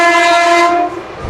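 Narasapur Express sounds a loud, steady horn blast close by as it departs Piduguralla station, the tone holding for about a second before cutting off.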